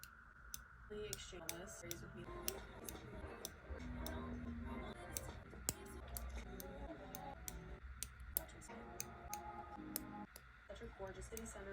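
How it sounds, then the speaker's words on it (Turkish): Small manicure scissors trim cuticles, producing sharp, close snips and clicks that repeat irregularly while someone talks softly throughout. "Şimdi manikür makasımla tırnak etlerimi keseceğim."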